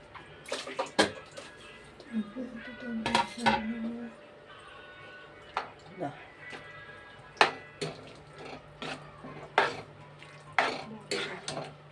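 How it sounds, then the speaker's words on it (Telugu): A cooking pot of mango curry handled on the stove: scattered metallic clanks and clinks of a lid and utensils, sharp and close, separated by quieter gaps with a faint background hum. "మూత పెడుతున్నాను ఫ్రెండ్స్, మగ్గుతాయి."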